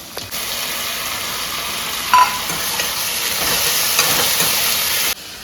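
Tomatoes sizzle and hiss steadily in a hot pan, with a few brief stirring scrapes, before the sound cuts off abruptly.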